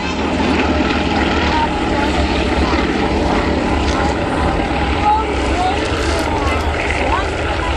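Red Bull Matadors aerobatic propeller aircraft at the Biggin Hill air show, flying in tight formation: a loud, sustained engine drone that stays steady and close throughout, with a commentator talking over it.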